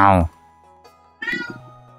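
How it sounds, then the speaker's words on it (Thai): A house cat meows twice, a loud close meow at the start and a second shorter one about a second later, with quiet room tone between. "ได้ยินเสียงแมวไหมครับ"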